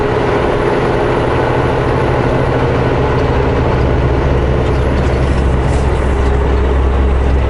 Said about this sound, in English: Spinning tires.